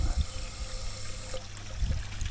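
Water spurts and sprays from irrigation solenoid valves at a building site in Maha Sarakham, Thailand, as line pressure builds: a steady close hiss with a few low thumps near the start and end, and no voices.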